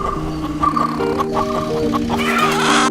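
A rooster crows loudly with long drawn-out calls, mixed with hens clucking close by.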